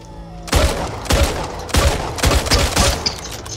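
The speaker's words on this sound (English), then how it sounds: "Which is the auto shotgun from Left 4 Dead." Super 90 auto shotgun from Back 4 Blood firing in quick succession, about six loud booming blasts roughly half a second apart, each with a short ringing tail, heard up close with no talk.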